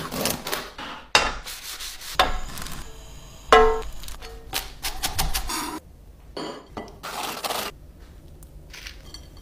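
Eggs stirred slowly in a pan with butter over low heat, giving intermittent scraping and rubbing strokes, some sharp, others soft, with quiet gaps between them.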